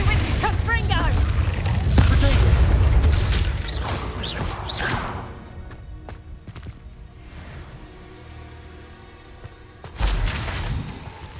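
Confringo fire spell explosions in Hogwarts Legacy: dense, loud blasts and crashing impacts during a magical duel, dying away to quieter rustling, then one more sudden boom.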